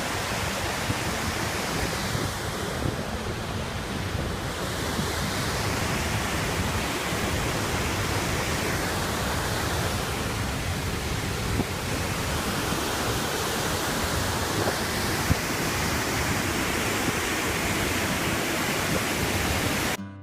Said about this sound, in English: you can hear the almighty roar of the river when you walk along it